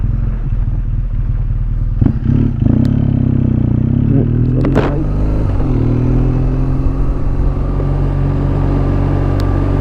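Motorcycle engine droning steadily on the Port Jackson gravel road on the Coromandel, with a car's rumble and crunch swelling as it passes close by around the middle, amid constant wind and road noise.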